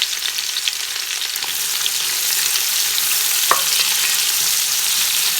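Three medium onions, finely chopped and thinly sliced, frying in a pan for chicken pulao, a steady bright sizzle that is loud and continuous, with a brief stir or clink midway and no voices.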